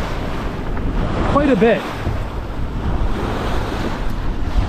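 Off Catalina Island, a boat's bow drives straight into the ocean swell, with a constant roar of wind and surf against the hull. A voice speaks briefly over the noise.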